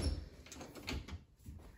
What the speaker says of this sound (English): This is a teeny tiny little door.